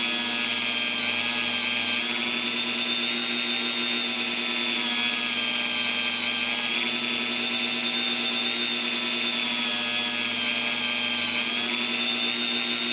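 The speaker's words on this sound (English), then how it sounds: "Combination of the sandpaper and the polishing compound." Steady, continuous high-pitched whirring from a spinning axle being polished with sandpaper and polishing compound, loud and unbroken throughout with no speech.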